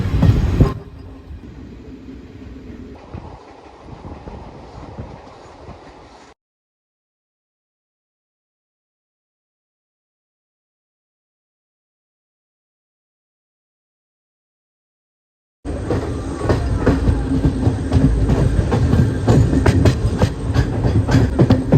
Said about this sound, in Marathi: एर्नाकुलम एक्सप्रेस गेली आणि आपली गाडी निघाली पुढे